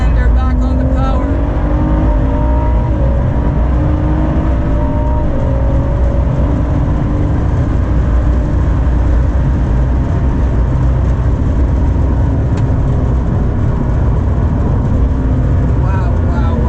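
A Ford GT powers hard out of a long right-hand corner on a race track, its engine a loud, continuous in-car roar with rising pitch sweeps as it accelerates, with someone speaking over it.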